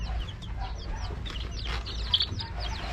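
Chickens in a cage cluck softly and repeatedly close by, a busy murmur of short calls over a low steady background hum.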